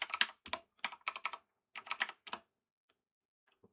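Username and password being typed on a computer keyboard: about a dozen quick, close, crisp key taps in clusters over two seconds, then a few sparse clicks, with no talking.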